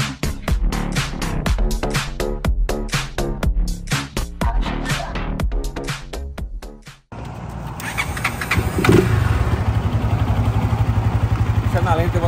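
A flex motorcycle running on diesel fuel revs loudly in a series of rhythmic bursts, then accelerates into a steady, continuous roar with wind noise, close and loud.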